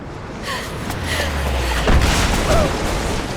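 A trebuchet fires in Rise of the Tomb Raider on PC, giving a deep, muffled boom with a rumbling tail that swells and fades over a steady game ambience.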